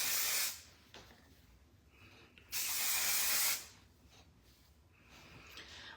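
A spray product misted onto the face, used for removing lash glue, gives two bursts of close, loud hiss, the first brief and the second lasting about a second, with quiet room tone between them.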